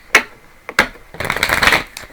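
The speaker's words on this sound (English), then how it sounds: "I just want to give it a good shuffle real quick." A tarot deck is shuffled in a few quick riffles: two sharp snaps followed by a longer, fluttering run of cards, close and fairly loud.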